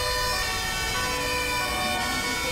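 Ambulance and police sirens wail together in GTA 5, loud and steady throughout with layered sustained tones over a low engine rumble, no voices.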